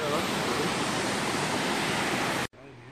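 Creek water rushes in a dense, steady hiss at a trail crossing, then cuts off abruptly to a quieter background.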